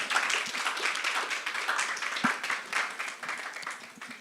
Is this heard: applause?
yes